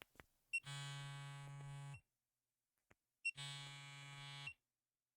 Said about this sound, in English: the tattoo machine has a beeping sound every time you start it and pause it